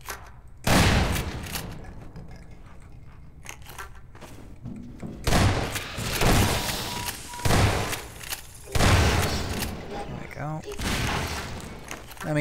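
Gunfire in Half-Life 2 Episode Two: several loud separate shots and impacts in uneven bursts, mixed with game ambience and someone talking over parts of it.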